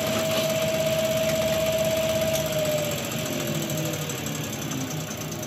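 Wood lathe motor running while turning yew, a steady mechanical hum with a tonal whine that drops slightly in pitch midway, continuous and close.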